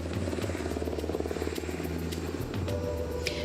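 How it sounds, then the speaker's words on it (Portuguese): An emergency medical helicopter passes overhead near an emergency care unit, its steady rotor thumping and engine drone heard moderately loud and continuous, with no voices. "o helicóptero do Consamu acabou de sobrevoar aqui a unidade de pronto atendimento"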